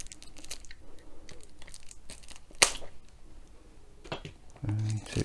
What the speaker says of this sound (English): So we'll just cut the cellophane